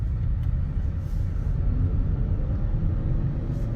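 A Honda CR-V Hybrid Touring heard from inside on a test drive, with a steady low cabin rumble of road and engine noise at moderate level, with no talking.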